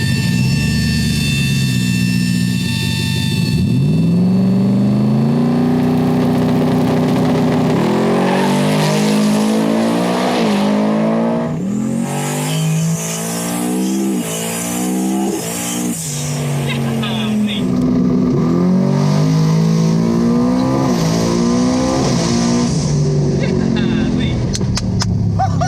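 A 2000 hp Ford F150 4WD truck on a racing pass, its engine roaring loud and close as it climbs through rising gear sweeps, with tire noise and people talking over it.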